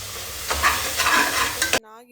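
Spices frying in a pan for tomato bath, a bright sizzle with bursts of stirring scrapes, loud and close, cut off abruptly near the end.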